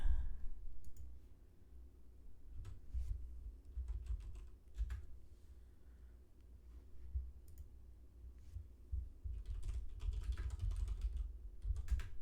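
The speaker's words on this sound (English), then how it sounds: "And type in my password." Someone types a password on a computer keyboard, quiet close key clicks in uneven bursts with pauses, with no voices over it.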